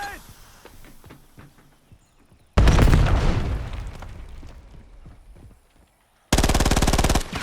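Automatic gunfire in Call of Duty: Warzone: a long, loud rapid-fire burst that trails off, then after a pause a second tight, rattling burst, close and dominant.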